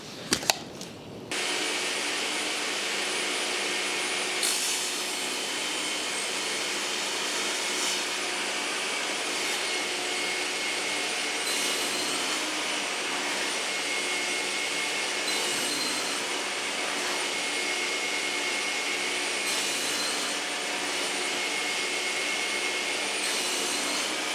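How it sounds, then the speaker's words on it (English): A Bosch GTS 10XC table saw cuts the end of a red oak board guided by the miter fence, a loud steady whining roar that starts after a brief click and runs evenly without speech. "that gave a really nice cut on the end of that red oak"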